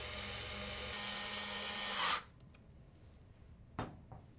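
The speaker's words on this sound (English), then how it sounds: "Tighten the screws." A power screwdriver tightens screws on a controller system assembly. A loud whirring drive runs for about two seconds and then stops, followed by a few faint clicks and taps in near quiet.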